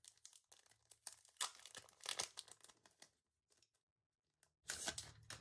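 Plastic packaging around a Mindwave Snug Room sticker set being opened by hand, with bursts of crinkling and tearing close to the microphone, a quiet pause, then a final loud crinkle.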